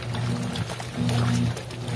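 A Laundry Alternative Poseidon washer agitating water during a wash, loud sloshing and churning in two long surges with a steady low motor drone underneath.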